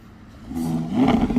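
A Lamborghini engine rises from a low idle into a quick rev, the growl swelling loud and close over about a second and holding at a higher pitch.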